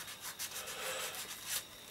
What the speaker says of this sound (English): I'm just sanding this down just slightly, but very, very lightly,